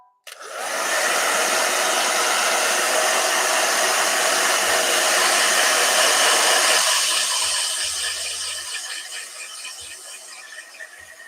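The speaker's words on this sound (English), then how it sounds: "I like to dry with between each one. So blow dryer." A hair dryer is used as a blow dryer to dry paint on a miniature figure, running as a steady, loud whoosh for about eleven seconds and easing slightly toward the end.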